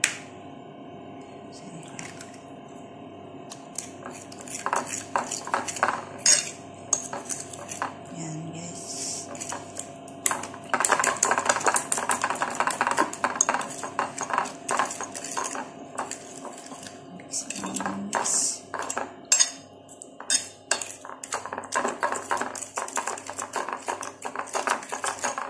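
Eggs for a cheese and coriander omelette are beaten in a bowl, producing rapid irregular clinking and tapping of utensil against dish, close by, with occasional voices in the background.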